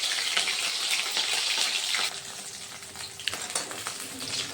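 Soybean chunks for a curry drop one at a time into hot oil, bringing a loud hissing sizzle that eases midway, then crackles on with a few sharp pops.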